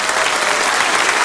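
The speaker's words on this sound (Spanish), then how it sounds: "Un aplauso para ella." A brief, loud burst of dense applause from an audience honoring a doctor, steady and full-bodied throughout with no voices over it.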